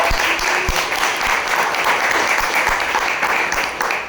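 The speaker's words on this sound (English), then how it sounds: "Let's give an applause for Lida." Steady applause from an audience at a talk, dense clapping that stays loud and even for several seconds with no speech over it.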